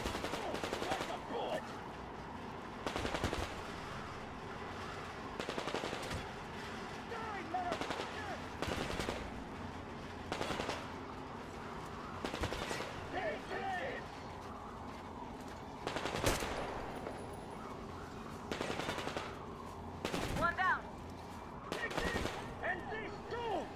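Repeated bursts of gunfire from Metro Exodus, irregular volleys of sharp shots spread across the stretch with a dense game soundscape underneath and occasional talk between bursts.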